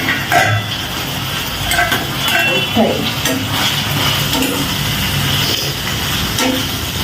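Onions for a potato and tomato curry fry in a pan, giving a continuous close sizzle broken by scraping and clattering as they are stirred.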